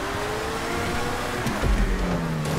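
Supercar engine climbing a mountain road in a video game, a steady drone with a brief louder surge midway, no talking.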